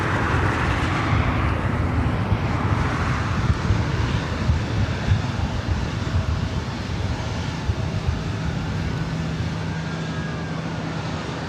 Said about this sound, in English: Alaska SkyWest flight 3329 heading to SFO and an E175